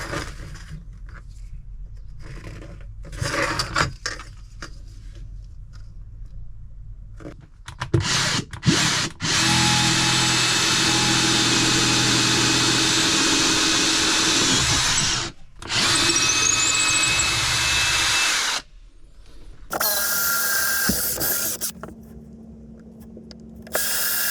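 A power drill bores a hole for fitting a diesel heater in a caravan, in bursts: short starts, then long sustained whining runs with brief pauses, loud and close, no talking.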